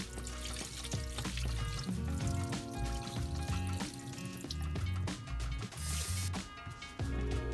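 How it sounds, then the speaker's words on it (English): Cold tap water runs over cooked sago as it is rinsed and drained in a kitchen, a steady pouring and splashing mixed under loud background music. "we're just gonna rinse it under cold water because we don't want it to keep cooking now"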